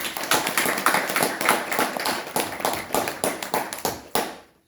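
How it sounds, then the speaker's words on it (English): Audience clapping at a talk, a steady patter of many hands with irregular louder claps, fairly close, fading out at the end with no talk over it. "So I want to just clap for them and pray for them."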